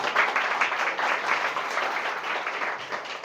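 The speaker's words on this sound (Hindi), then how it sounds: "एक बार ताली बजाओ प्रभु यीशु मसीह के नाम से।" A church congregation at a Mother's Day service claps together in a dense, steady wash of applause, loud and sustained throughout with no voices standing out.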